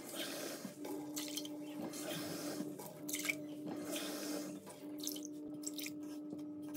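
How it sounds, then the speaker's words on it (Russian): Water being poured into a bowl holding five kilograms of sugar for syrup, a steady close trickle and splash running for several seconds over a faint mechanical hum. "Сейчас в моей миске 5 килограммов сахара, куда я добавляю 5 стаканов воды."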